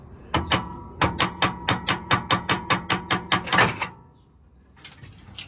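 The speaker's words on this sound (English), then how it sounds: "sometimes if it doesn't want to come out on its own, you can just smack it and it'll come off" A rapid, steady series of about fifteen sharp metallic hammer strikes on a car's torsion bar rings out, followed by a short clatter and quiet.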